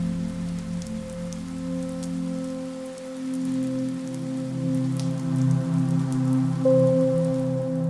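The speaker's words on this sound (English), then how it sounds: "the rain still gently tapping on the windows" Rain taps gently on windows by a bar, making a soft, steady patter that continues throughout under a low sustained hum and tonal background.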